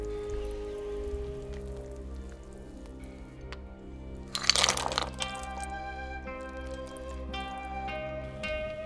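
Coconut milk is poured into a pot of Tom Yam soup with shrimps, a short splashing gush that lasts under a second over a steady low kitchen hum, with faint drips before and after.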